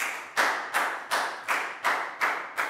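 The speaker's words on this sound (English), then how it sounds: "High five and a big round of applause for Bangpon, please, guys." A class of schoolchildren claps in unison during a math lesson, giving seven sharp, evenly spaced group claps, each a loud burst that quickly fades before the next.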